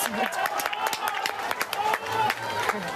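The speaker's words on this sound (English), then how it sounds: "you can see them cheering behind us" Apple Daily staff in Hong Kong cheer and clap in a crowd behind close conversation, with scattered sharp claps and raised voices running steadily throughout.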